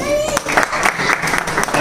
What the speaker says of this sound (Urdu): تالیاں بجائیے ورنہ اٹھیں گے